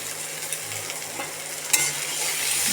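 Garlic cloves frying in hot oil in a pan, a continuous close sizzle with light stirring clicks and a sharper scrape partway through, no voices.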